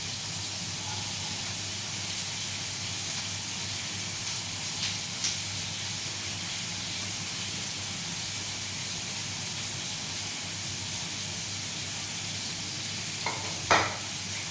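Onion and ginger frying in a pan give a steady, close sizzling hiss, with a few faint scrapes of stirring and a brief clatter near the end.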